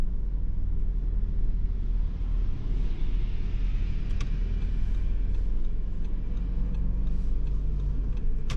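A car driving through town traffic during a driving lesson, with a steady low road rumble and engine drone throughout and a few faint ticks on top, heard from inside the cabin.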